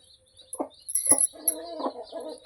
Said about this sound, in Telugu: ఇంకో ఈ మూడిట్లో కూడా పిల్లలు కిచకిచ్ కట్ట అని కొట్టుకుంటున్నాయి